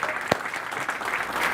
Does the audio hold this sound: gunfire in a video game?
no